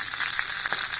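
Masala sizzles and fries steadily in a pan as onions go in, a close, continuous crackle with soft stirring scrapes and no talking.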